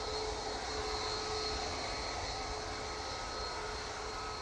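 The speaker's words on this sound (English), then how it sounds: "And that Ryanair off to Gdansk. Using the 737-800 for that flight." Ryanair Boeing 737-800 departing Manchester Airport for Gdansk, a faint, steady jet engine roar with a thin whine held throughout, distant and even, with no talk.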